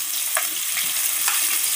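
Small onion pieces frying in a pan for a fish curry: a dense, even hiss of hot oil with a few soft stirring bumps, close and steady throughout.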